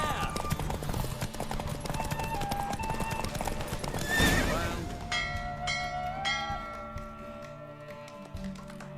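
The horse Roach gallops in a race in The Witcher 3, rapid hooves pounding close under game music and a voice, with a whinny partway through and bell-like tones near the end.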